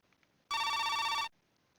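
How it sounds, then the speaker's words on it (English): An office telephone in the Jake Hunter detective game rings once with a bright electronic trill lasting under a second, loud against near silence. "the office phone shattered the heaping silence of the office"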